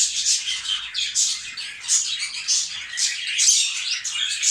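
Small birds chirp and twitter continuously in bright, overlapping calls, close and fairly loud, with no voices.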